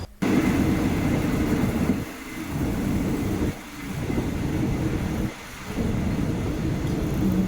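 A Thai passenger train rumbles steadily on the rails, a loud continuous roar with a few brief dips, close and with no voices.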